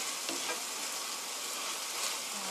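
Chicken and mushrooms with brown sugar stir-frying in a pan, a steady close sizzle and crackle running without pause, with a few soft scrapes of stirring.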